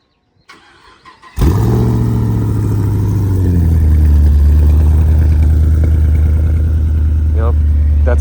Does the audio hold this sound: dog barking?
no